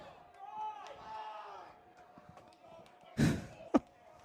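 A crowd in the stands at a Legion Baseball game murmurs and reacts from a distance, with a sudden loud burst of noise near the end and a sharp thump right after.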